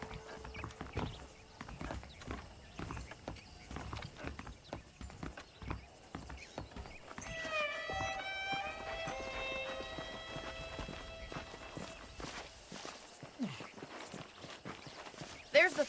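Horse hooves clip-clop steadily in the Western game Red Dead Redemption as a rider walks a saddled horse, close and moderately loud, with a brief whinny and game music partway through.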